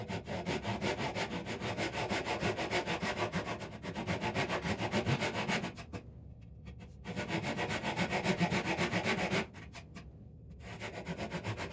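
Wood is sanded by hand on a damaged drawer being repaired, rhythmic back-and-forth rasping strokes running steadily with two short pauses.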